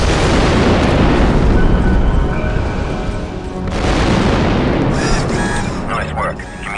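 Explosive detonation in the Star Wars Republic Commando video game, a loud sustained broadband roar and rumble that fades briefly, surges again, then trails off into game effects and tonal sounds.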